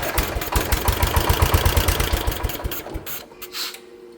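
A 1973 John Deere 140 H3 garden tractor engine cranks and tries to start on starting fluid, a rapid rhythmic chugging that sputters briefly and dies away, leaving a faint clatter.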